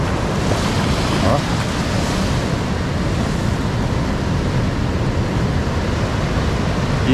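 Ocean surf at Toninhas beach in Ubatuba, São Paulo: a steady, dense roar of breaking waves mixed with wind buffeting the microphone, loud and unbroken throughout with no clear individual wave crashes.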